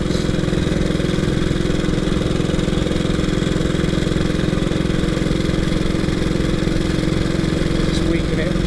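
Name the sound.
1926 HRD Model 80 motorcycle engine chugging uphill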